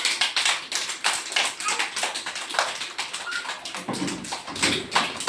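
Children clapping hands during a group game, a quick run of sharp claps in uneven bursts with a tambourine-like jingle, close and lively, with a few faint voices underneath.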